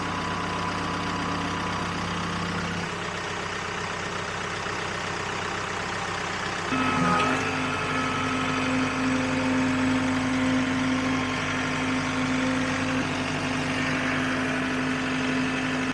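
A tractor engine idles at a rural building site, a steady low mechanical drone that shifts to a slightly louder, rougher tone partway through, with no talking.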